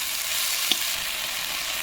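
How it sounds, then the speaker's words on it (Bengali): Chopped dheki shak greens frying in a pan hiss with a constant close sizzle, broken once by a brief clink or scrape as they are stirred. "ঢেঁকি শাকগুলো দেওয়ার পরে আমি একটু নেড়ে ছেড়ে নিলাম"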